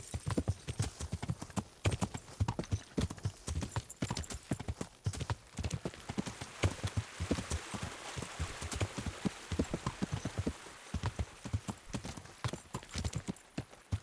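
Horse hooves clip-clop steadily in the game Kingdom Come: Deliverance, a continuous close rhythm of hoofbeats with faint rain-like texture beneath.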